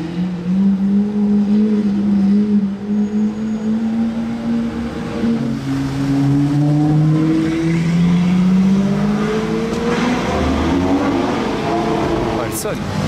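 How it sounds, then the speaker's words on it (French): An Aston Martin Valkyrie supercar drives past on a road, its engine note rising and shifting loudly and continuously over about thirteen seconds, with a swelling pass-by sweep. "pour en revenir à l'Aston Martin Valkyrie, je suis content de l'avoir revu"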